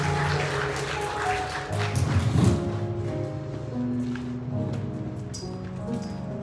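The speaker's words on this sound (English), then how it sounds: "Can we clap as they come one more time?" Mourners at a celebration-of-life service clap together as speakers come forward, a soft, steady wash of applause running throughout with a slight swell midway, under low organ-like tones.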